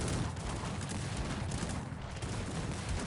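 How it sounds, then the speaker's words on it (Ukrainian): A muffled crackle of distant musket gunfire in the video game Cossacks 3 rolls on continuously, a dense volley of shots with no clear gaps, fairly faint. "Є невеличкий залп."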